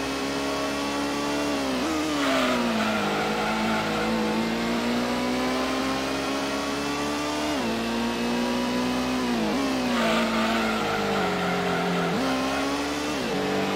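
A race car's engine screams at over 200 mph in the PlayStation racing game Gran Turismo, with a loud, close, sustained whine that dips and rises again as the driver shifts gears and brakes into corners.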